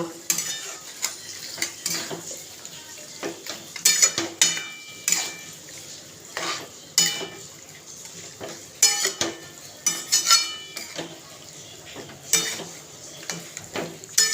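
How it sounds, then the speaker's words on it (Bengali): A large batch of meat, about one and a half kilos, being stirred and fried in a pot, with repeated scraping clinks of a metal spoon against the pot over a steady sizzle, close and fairly quiet. "কষাচ্ছি এখন মাংসটা।"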